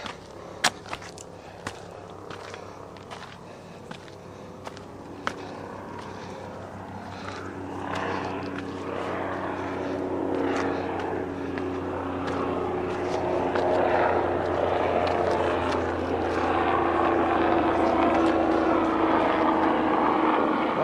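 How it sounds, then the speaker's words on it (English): A helicopter drones overhead, its rotor hum building louder over about twenty seconds, with scattered clicks and outdoor noise. "I hear a Coast Guard helicopter."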